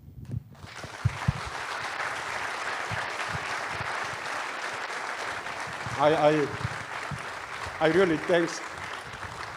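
An audience applauds at the closing session of the FOSS4G 2023 conference, a steady wash of clapping that runs for several seconds while someone speaks briefly over it.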